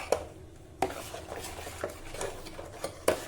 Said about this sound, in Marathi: आता आपण हे छान मिक्स करून घेऊ.